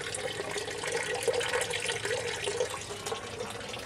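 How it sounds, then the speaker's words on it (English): Water pours steadily into a DWC hydroponic pipe bed built on the cheap, a continuous splashing, gurgling flow with no pauses, heard up close and fairly loud. "Alright, so we got water coming into that bed there."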